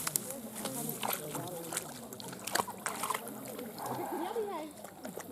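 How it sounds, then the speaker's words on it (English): A dog laps water from Boggy Creek outdoors, soft wet splashing and sloshing close by in uneven bursts, with people talking over it. "My dog is drinking from Boggy Creek right now."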